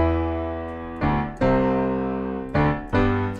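Piano melody around E played in octaves, with several sustained notes struck in sequence, each attack ringing and decaying, loud and close with no talking.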